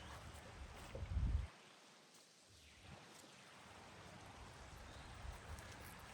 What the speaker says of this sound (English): This is a nice little creek area.